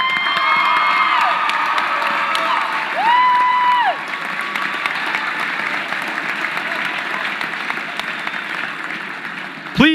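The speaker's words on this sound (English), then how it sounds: "Your applause will be a symbol of your gratitude for all they have done for you over the past years." Graduates at a high school graduation ceremony applaud their faculty, a dense, sustained round of clapping with scattered cheers and whoops filling the hall, while a voice talks over it in the first few seconds.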